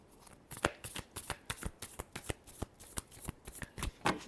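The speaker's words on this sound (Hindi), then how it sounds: "Last shuffle." Tarot cards are shuffled by hand up close, a quick series of crisp riffling slaps and flutters in an uneven rhythm, with no speech.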